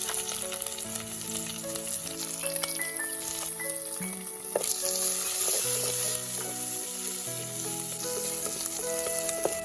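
Small onions with mustard seeds fry in hot oil, a steady close sizzle with light clinks of a utensil and faint background music running throughout.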